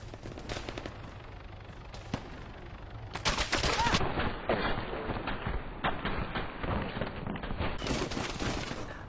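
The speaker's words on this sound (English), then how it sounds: "Actually took fire from Tower 5 then." Gunfire from an enemy position called Tower 5 in Arma 3's King of the Hill mode: rapid, cracking bursts of automatic rifle and machine-gun fire, some close and loud, others farther off, rattling on over about nine seconds with no speech.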